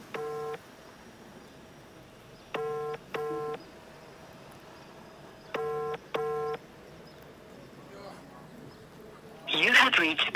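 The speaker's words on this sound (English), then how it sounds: "I'm gonna call you until you pick up this phone or you block me." A telephone ringback tone sounds while a call waits for an answer: three double-burst rings repeat at even intervals over steady background noise, and a short noisy burst comes at the end.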